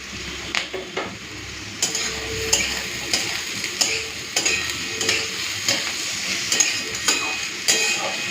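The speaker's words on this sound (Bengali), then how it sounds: "উচ্ছে আলুর সাথেই একসাথে পেঁয়াজটাকে ভেজে নেব" Bitter gourd, potato and onion fry in a pan with a continuous close sizzle, broken by repeated scraping strokes of a spatula at an irregular rhythm, with no talk.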